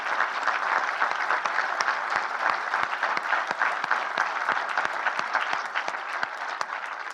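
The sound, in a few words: audience applause for firefighters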